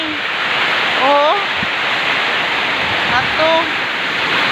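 Floodwater rushes in a steady, loud broadband roar throughout, with brief high chirping bird calls or whistles rising over it at two moments.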